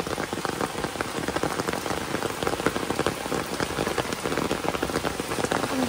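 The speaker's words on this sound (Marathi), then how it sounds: "पाऊस पडायला लागला." Steady rain falls outdoors, a dense continuous patter close by with no pauses.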